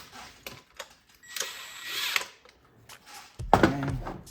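Hand tool working a 10mm bolt back into place on a Mazda CX-9 2.5 liter turbo four-cylinder engine, with scattered clicks, a longer scraping, whirring stretch and a louder metallic clatter near the end, close and without speech.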